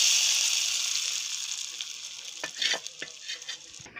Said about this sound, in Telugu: ఈ తాలింపు మనం రెడీ చేసి పెట్టుకున్న పచ్చిమిర్చి చట్నీలో వేసుకుందాం